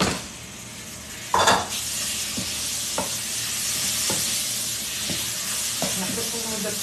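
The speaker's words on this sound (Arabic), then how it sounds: "حمر عندي البصل والثوم، حنا نزل اللحمة." Meat sizzles in a pan with onion and garlic, a constant frying hiss broken by sharp spoon clanks against the pot every second or so as it is stirred.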